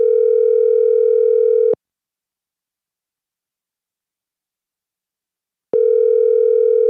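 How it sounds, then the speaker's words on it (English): Ringback tone heard while a telephone call is being placed: a steady electronic tone lasting nearly two seconds, then about four seconds of silence, then the tone starts again, loud and alone. "let's get Tracy on the phone."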